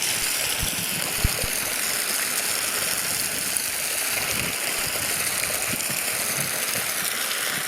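A Parkside PRPA 20-Li 20V cordless water pump runs steadily, giving a constant close mechanical whir mixed with gushing water for several seconds, with no talk.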